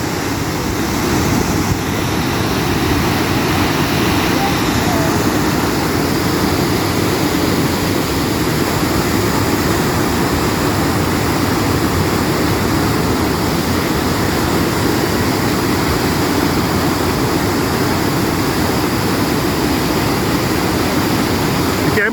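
Niagara Falls pours with a dense, unbroken roar of crashing water, loud and steady from start to finish with no clear voices above it.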